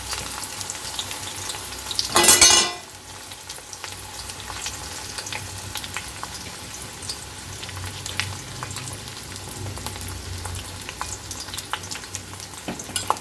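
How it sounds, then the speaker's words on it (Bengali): Chopped onion for a boiled-egg tarka hits hot oil with a loud sizzling burst, then settles into a steady, soft crackle and stir sounds. "এবার দিয়ে দেবো পেঁয়াজ কুচিটা এটা হয়ে গেছে তোমাদের পেঁয়াজ কুচিটা দিয়ে দিচ্ছি"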